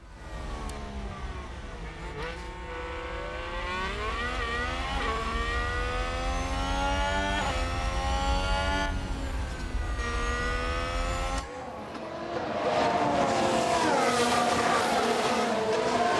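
F1 race cars in the F1 Manager 2022 game roar past in a dense, steady engine drone with rising and falling pitch, shifting abruptly near the end as another car takes over, loud and continuous with no talking.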